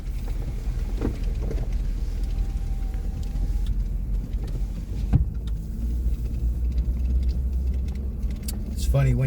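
A pickup truck in four-wheel drive crawls along a snowy, washed-out road, its engine a steady low rumble with occasional clunks and jolts, while someone talks over it.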